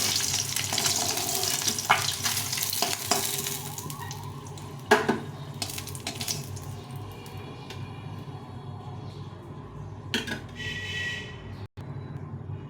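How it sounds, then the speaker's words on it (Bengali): Duck eggs fry in hot oil in a pan, a steady close sizzle with occasional scraping stirs and bumps, and no voices. "কমিয়ে দিয়ে ডিমগুলোকে ভেজে নিই"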